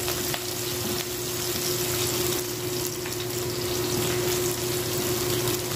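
Garlic and onions sizzle steadily in a pan for chicken curry, a loud and continuous hiss that stays close and even throughout with no talking.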